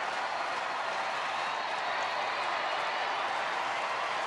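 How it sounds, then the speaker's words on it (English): Crowd noise at a Cincinnati-versus-Texas baseball game in a Texas ballpark, a broad steady roar of cheering and applause that holds level the whole time without a break. "Crowd getting after it again."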